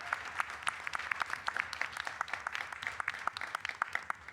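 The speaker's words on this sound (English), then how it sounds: "Let's do one more round of applause for these 4 entrepreneurs." Audience applause for four entrepreneurs at a climate tech prize finals event, a quiet, somewhat distant burst of many overlapping claps that continues steadily throughout.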